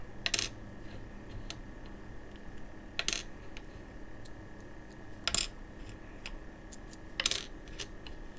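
Coins from a sealed 1959-P mint bag clink and jingle in four sharp metallic bursts spaced a couple of seconds apart, with faint ticks between them and no one speaking.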